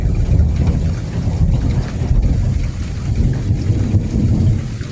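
Thunderstorm with steady heavy rain and a deep, continuous rumble of thunder, loud and close throughout, with no voices.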